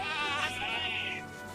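Cartoon sheep bleating in a 3D farm animation, a single drawn-out, wavering bleat heard up close and clear with no talk over it.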